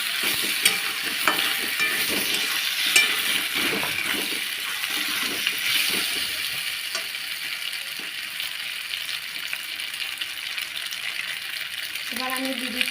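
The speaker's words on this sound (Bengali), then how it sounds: "টমেটো সসটা দিয়ে আবার হালকাভাবে নেড়ে নিচ্ছি" Home-style pasta with tomato sauce stirred in a pan, gentle scraping and soft sizzling at a steady moderate level, with a brief metallic clink near the end.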